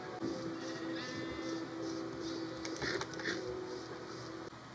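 Sheep in the video game Minecraft bleat in a steady series of soft, repeated calls over a faint constant background hum.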